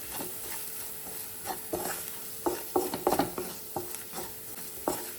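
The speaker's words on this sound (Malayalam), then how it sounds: "ചിക്കൻ മസാല, പെപ്പർ, എന്നിട്ട് നന്നായിട്ടൊന്ന് ഇളക്കുക" Chicken masala and pepper are stirred in a pan with quiet, irregular scraping and clacking strokes that cluster toward the middle, over a faint sizzle and steady background hiss.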